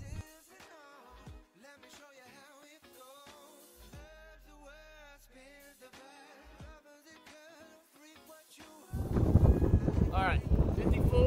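Wind gusts across a golf course in Reno, hitting the microphone as a loud, rough rumble during the last couple of seconds, after a stretch of background music.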